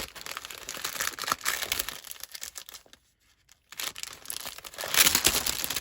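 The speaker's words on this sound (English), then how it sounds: "Sorry for the crinkly noise." Crinkling plastic packaging of a Christmas Cheer by Carta scrapbook supply bag, close and loud rustling crackles in bursts with a short quiet gap midway.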